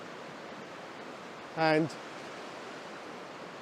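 The River Dart flowing through woodland: a steady, hissing rush of water fills the whole stretch, briefly interrupted by a single short spoken word.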